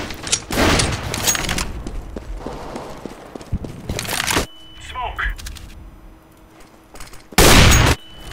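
Counter-Strike gunfire on de_mirage, with sharp bursts of shots and a loud crack near the end, while players talk over the action throughout.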